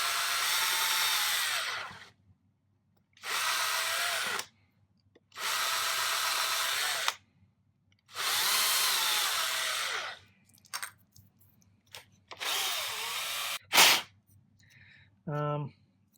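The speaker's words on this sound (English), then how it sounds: "probably with a drill press, not by a hand drill" A hand drill bores into a copper board for a guitar pedal build, whirring in several separate bursts of a few seconds each with quiet gaps between them, close and fairly loud.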